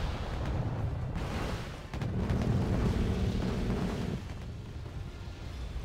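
Mortar fire in Wargame Red Dragon: a dense, continuous rumble of distant blasts and booms rolling together, swelling louder in the middle before easing back to a lower steady barrage.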